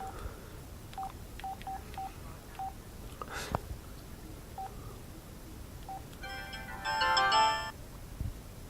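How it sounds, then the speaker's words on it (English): Monophonic ringtones on a Sanyo SCP-2400 cell phone, faint scattered single beeps followed by a brief, busier electronic melody, quiet against background hiss. "That's the monophonic ringtones."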